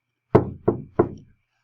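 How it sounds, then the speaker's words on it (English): Three firm knocks on a door, evenly spaced and close, each with a short hollow ring-off, alone in a quiet room. "you hear a knock at the door."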